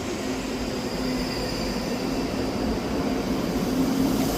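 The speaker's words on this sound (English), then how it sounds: "arriving in now is the delayed 10:51 Scotrail service from Helmsburgh Central to Edinburgh Waverley" A ScotRail Class 334 electric multiple unit arrives at Edinburgh Haymarket station, a steady broadband rumble and hum of wheels and motors holding level throughout with no voices.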